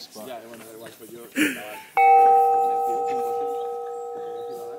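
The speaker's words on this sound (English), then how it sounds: "every morning at 4 o'clock, the gong goes off, and that's our alarm." A voice talks briefly, then a single struck gong at a Vipassana meditation centre rings out loud and clear, its steady tone sustaining and slowly fading.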